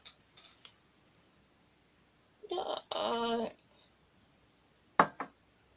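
A metal tablespoon clinks and scrapes against a container while spice is measured out for a homemade nut seasoning, in a few short, close bursts with quiet gaps between them.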